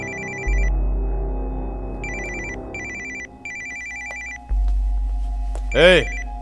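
Telephone rings in repeated short electronic bursts across the scene, clear and fairly close, with low rumbling background tones and a brief sweeping sound effect near the end.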